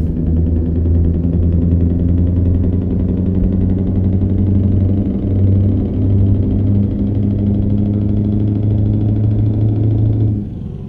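A noisy V8 truck rolls along in Euro Truck Simulator 2, its engine giving a steady, loud low rumble and vibration that holds nearly unbroken before easing slightly at the end.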